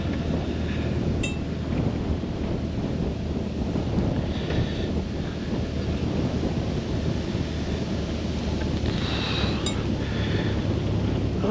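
A strong wind blows over a boat on the Norfolk Broads, making a loud, constant roar and buffeting against the microphone, with a few faint high chirps far off.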